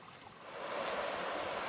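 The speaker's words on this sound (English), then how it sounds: "There is the sound of running, rippling water." Running, rippling water of a stream on an outdoor walk, a steady broadband babbling wash that swells louder after the first half second and stays continuous, nearby and alone.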